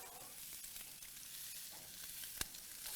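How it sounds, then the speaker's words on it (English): A rib eye steak sizzles on a hot barbecue grill, a steady close crackling fry with a sharp pop partway through and no talk. "Can you hear that sizzle?"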